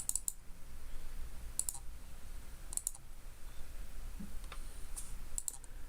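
Sharp, isolated computer mouse clicks, about four single or doubled presses spaced a second or so apart, close and crisp over faint background noise during a live stream, with no talking.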